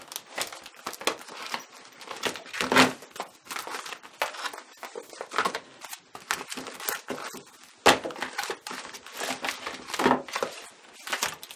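Sticker packets and plastic sleeves crinkle and rustle up close as they are shuffled and sorted into a faith planner organizer, with irregular bursts of crackling and a few sharper crunches.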